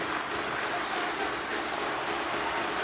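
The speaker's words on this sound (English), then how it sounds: "You can feel the energy in this crowd." A video-game NHL 24 hockey crowd in Buffalo versus Quebec roars and applauds in a steady, dense wash of sound with no break.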